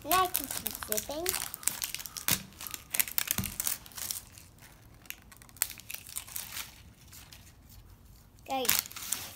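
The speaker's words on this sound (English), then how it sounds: "Now I can keep zipping." Plastic LOL Glam Glitter toy packaging crinkles and rustles up close as it is zipped open, with scattered crunchy bursts and a voice speaking over parts of it.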